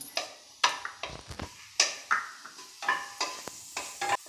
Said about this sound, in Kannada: ಈಗ ಎಣ್ಣೆ ಬಿಸಿಯಾಗಿದೆ. ಈಗ ಜೀರಿಗೆಯನ್ನು ಹಾಕೋಣ.